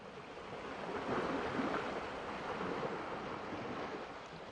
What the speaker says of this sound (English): Why don't I be very on the nose and add some ocean waves?